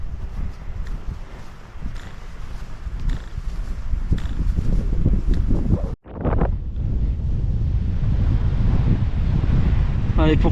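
Strong, steady mountain wind near Cabane de Tramezaïgues buffets the microphone outdoors, a broad low roar with a brief dropout midway before the gusting resumes.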